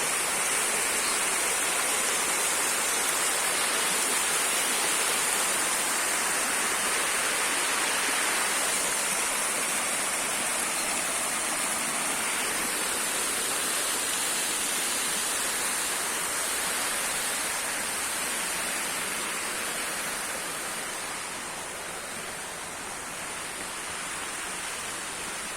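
Steady, full broadband rush of fountain water flowing at a pond, continuous and fairly close with no talk over it, easing slightly toward the end.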